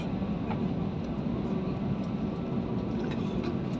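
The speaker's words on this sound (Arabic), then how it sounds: "نطلع الممر الرئيسي اهو بتاع الإقلاع." Cabin rumble of an airliner taxiing onto the runway before takeoff from Borg El Arab Airport, a steady, even low drone with faint rattles, heard from inside with no talk.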